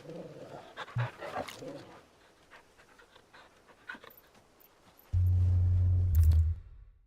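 A dog in the video game Final Fantasy 16 pants and whimpers close by in short, soft breathy bursts, followed by a steady low hum at the end.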